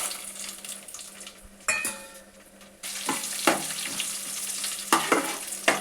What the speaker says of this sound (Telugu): ఒక ప్యాన్ పెట్టి ఆల్రెడీ నేను నెయ్యి వేసాను, డ్రై ఫ్రూట్స్ వేసి వేయించుకున్నాను.